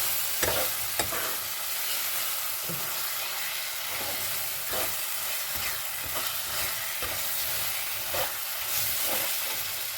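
Chopped tomatoes sizzle and spit in hot oil in a pan for paneer bhurji, a steady bright fry hiss with intermittent scraping stirs, close and continuous.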